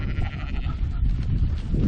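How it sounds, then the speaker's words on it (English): Sheep in a field on a Cotswold countryside walk bleat loudly and close by, several overlapping wavering calls running continuously with no talking. "I'm going to disturb these sheep over here relaxing now"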